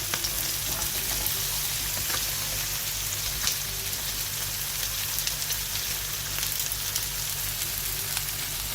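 Onions fry in a pan for cheeseburgers, filling the clip with a steady, dense sizzle like light rain that holds at an even level, with no talking.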